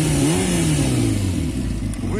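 Kawasaki ZZR motorcycle engine revving steadily at the first start of the season, a loud, continuous close-up exhaust note with a falling pitch sweep, no speech over it.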